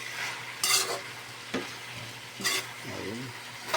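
Pancit guisado noodles with plenty of vegetables are stirred in a pan: a soft, low sizzle broken by a few quick scraping and clinking strokes, with no talk.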